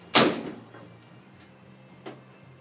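A single solid thud of a tumble dryer door shutting, followed by a quiet hum and a couple of faint light clicks.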